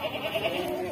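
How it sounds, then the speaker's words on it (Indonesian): A Javanese goat at a quiet livestock market in Jepara gives a brief, nasal bleat up close, heard alone over faint background noise. "kambing Jawa ini"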